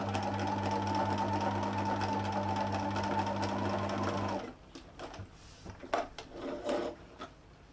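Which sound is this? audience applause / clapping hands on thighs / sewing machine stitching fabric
sewing machine stitching fabric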